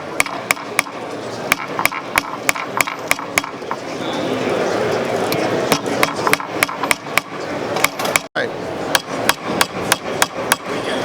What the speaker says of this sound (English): we're going to use a nylon hammer with a doming stake, and we're going to take a blank and we're going to roll the edge